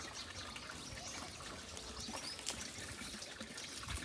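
A cow at a gaushala drinks water from a trough, giving a steady close trickling, sloshing and lapping sound that runs without a break, with faint background noise.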